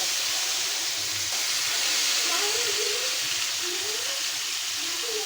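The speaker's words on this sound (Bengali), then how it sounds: "মাছটা এক এক করে এখন কড়াইতে ছেড়ে দিই।" Koi fish sizzle as they are laid into hot oil in a large pan, giving a steady, loud hiss and crackle that continues throughout.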